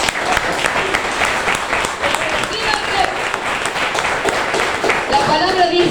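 Congregation clapping during a church service, loud and continuous with crowd voices mixed in, steady applause throughout.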